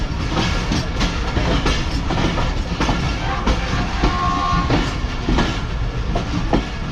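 Train rolling along the track in Karachi, a steady loud rumble with rhythmic clickety-clack from the wheels and a brief squeal partway through, heard close from on board.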